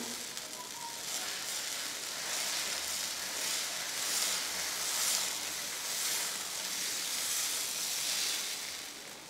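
Dosa batter sizzling steadily on a hot pan, a continuous bright hiss that swells and eases gently, close and fairly quiet, with no talking.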